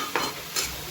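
Vegetable bhaji stir-fried in a pan, two quick scraping stirs over a soft continuous sizzle in a brief close-up moment.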